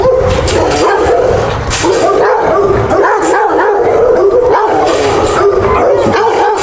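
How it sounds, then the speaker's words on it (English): A dog barks and yips repeatedly at a fence line, loud and close, with whining and howl-like cries mixed in between the barks. "We got a dog at a fence line Queenie hasn't seen yet, and I think this dog is going to bark at us"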